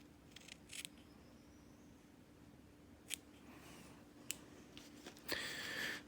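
A few quiet, crisp snips of scissors cutting thread, spaced irregularly against a steady low hum, with a louder rustling burst near the end.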